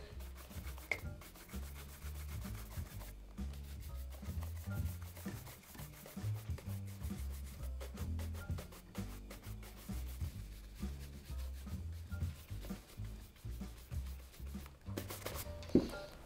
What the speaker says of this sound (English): I'm gonna buff the first coat of wax polish off of the right shoe